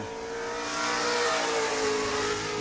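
An open-wheel modified race car on track during qualifying at New Smyrna, its engine roaring loud and steady as it rises slightly in intensity throughout.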